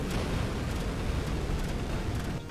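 A continuous roaring, rumbling blast of noise fills the whole stretch, sustained bomb explosions in the video game No Time To Explain, loud and dense before briefly dipping at the end.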